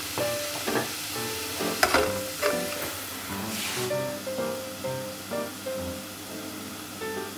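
Beef tripe for Florentine-style trippa slowly stir-fried in a pan over lowered heat: a soft sizzle with intermittent scraping stir strokes, close by, over faint steady background tones and with no talking.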